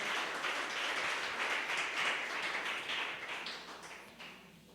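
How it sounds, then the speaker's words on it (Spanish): A church congregation applauds together in a steady, dense wash of clapping that holds for several seconds and then gradually thins out, heard from a moderate distance. "¿Puede darle un aplauso a ese Dios de gracia?"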